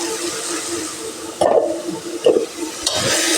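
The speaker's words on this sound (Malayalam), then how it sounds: "വഴറ്റാം, ഇളക്കി കൊടുക്കണം. ഇത് ചെറുതായിട്ടൊന്ന് മൂത്ത് വരണം." Crushed garlic and green chilies sauté in a pan for mutton biryani, a low frying sizzle under a few sharper clatters and scrapes of stirring, close by, with no talk.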